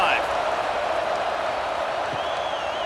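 A stadium crowd cheers and roars in EA Sports College Football 26 during a Purdue Boilermakers versus Michigan Wolverines game, a loud, steady wash of noise with a whistle-like tone on top.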